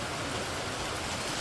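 Rain falls steadily during the rainy season in a Bangladeshi village, a soft, even hiss of moderate loudness that continues unbroken through a short stretch with no voices.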